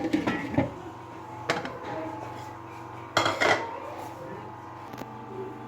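Mixed vegetables scooped from a cooking pot, with several metal spoon scrapes and clanks against the pot at irregular moments, fairly close, over a low steady hum.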